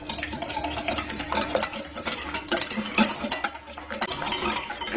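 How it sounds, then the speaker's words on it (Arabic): Eggs with sugar and salt are whisked by hand in a bowl, giving quick repeated scraping and tapping strokes in an uneven rhythm, close and moderately loud. "غادي نطرب كلشي مزيان"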